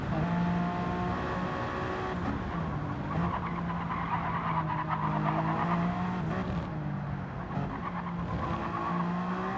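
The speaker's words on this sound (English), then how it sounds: "we're racing Group 1 hypercars right now" Group 1 hypercars race in Gran Turismo 7, with engines droning and whining in steady tones as tires squeal and skid throughout, loud and continuous with no talk.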